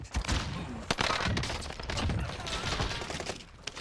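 A dense exchange of gunfire in Warzone: overlapping shots and bursts, some sharp close cracks among rattling fire, loud and steady throughout with no talking.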